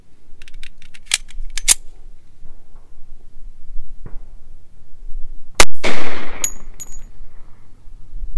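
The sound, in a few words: 1911 A1 pistol firing .45 Auto round into gel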